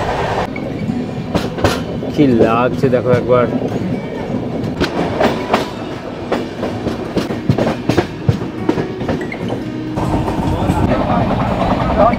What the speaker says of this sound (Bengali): দূরে দেখো যাচ্ছে ট্রেন, একটা মেমু ট্রেন যাচ্ছে